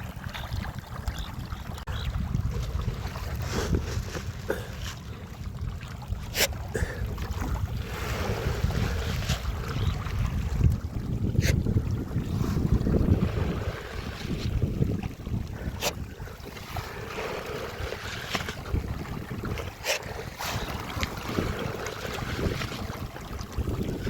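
Strong gusty wind roars across the microphone for a long stretch on a raft on a tilapia pond, with water sloshing and occasional sharp knocks, no voices.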